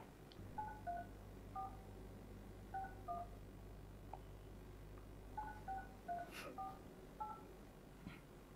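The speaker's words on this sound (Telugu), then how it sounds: "ఒకసారి ఆ నెంబర్స్కి కాల్ చేసి ఒకసారి మాట్లాడదాం" Several bursts of telephone keypad touch-tones ring out as a number is dialed, in quick groups of beeps over a low steady hum, fairly quiet and with no voices.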